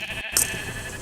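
A Minecraft sheep gives one short, sharp digital bleat that stands out clearly over a steady background hum.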